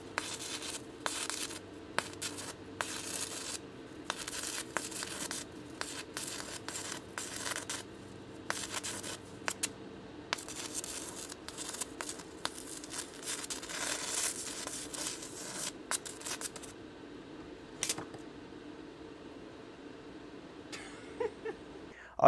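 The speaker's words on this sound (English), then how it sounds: "Just listen very closely to how the arc starts, dies, and restarts while I'm trying to weld." Arc welding with homemade DIY welding rods on metal plates, an irregular sputtering crackle that starts, cuts out and restarts in bursts over a steady low hum, then drops away near the end.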